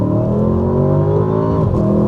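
A 2023 Audi S8 facelift accelerates hard at full throttle, its engine note droning loud and close as it rises, with a brief dip near the end as the automatic gearbox upshifts.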